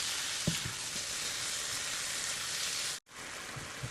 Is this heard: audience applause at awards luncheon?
no